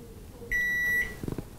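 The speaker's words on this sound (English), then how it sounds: "Now to unlock your microwave, you simply hold the X again for 3 seconds." A microwave oven gives a single clear electronic beep of about half a second as its control lock is released, followed by faint soft clicks, in a quiet room.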